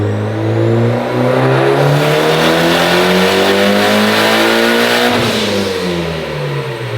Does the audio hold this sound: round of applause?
no